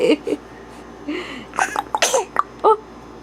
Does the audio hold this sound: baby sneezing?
yes